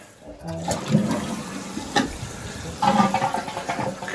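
Water rushing and gurgling into a toilet tank as it refills, a steady hiss with splashy bursts, close by and without voices.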